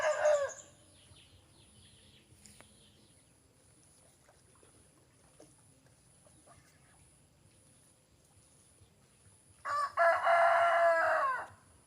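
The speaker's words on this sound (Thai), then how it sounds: "สำหรับช่องเราก็จะลำคาญเสียงไก่ขันหน่อยนะคะ" A rooster crows loudly once near the end after a long quiet stretch, and the tail of another call fades out at the very start.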